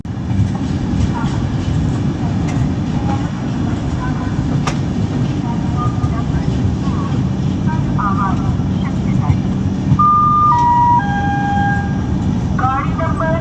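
Electric locomotive with a high-rise pantograph hauling the Bhuj-Shalimar Superfast Express, heard as a steady low rumble and rolling clatter from inside the moving train, with faint tonal whines and brief squeals near the end.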